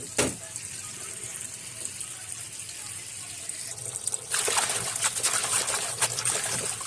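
Tap water runs into a sink while spinach greens are washed, a light trickle that swells into a louder, fuller gush partway through, with splashing from the leaves being handled.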